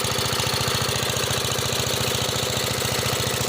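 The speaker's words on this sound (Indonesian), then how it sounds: "mesin mobil guys, mesin cuci mobil manual." Engine of a manual car wash machine running steadily nearby, a loud, even, rapid knocking thrum that holds throughout without a break.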